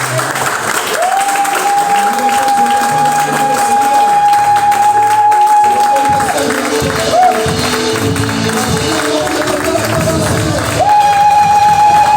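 Sustained crowd applause and cheering filling the space, with a steady held tone like music or a hum running through much of it.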